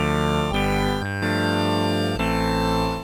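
Sustained Moog Opus 3 analog synthesizer chords with a bright, buzzy tone, changing a few times as the filter sweeps downward; loud and close, no voices.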